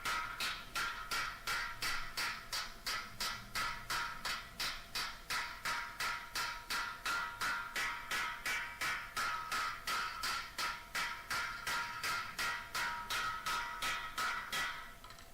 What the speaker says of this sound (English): He's using the square end of the hammer.